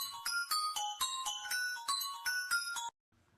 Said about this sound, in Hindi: ये इतनी रात को इसके फोन पे कौन कॉल कर रहा है?